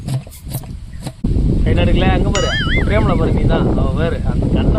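Loud, rough noise fills the clip as a voice makes rapid wavering vocal sounds imitating chopping for biryani, over a busy crowded background.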